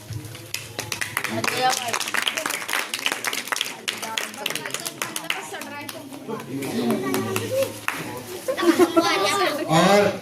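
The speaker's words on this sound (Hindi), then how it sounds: "ताली बजाओ।" Scattered clapping from a small gathering welcoming guests, uneven bursts of hands mixed with lively chatter, children's voices and someone speaking, fairly close and rising toward the end.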